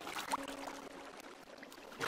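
Flowing water in Minecraft, pouring down while a house is built into a mountainside, makes a steady close trickling wash that runs unbroken for about two seconds.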